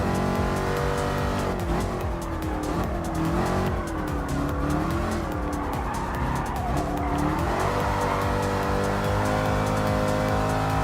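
Race cars in Gran Turismo Sport, including a Corvette C7 road car, roar continuously with high engine whine and sustained tire squeal, loud and steady without talk.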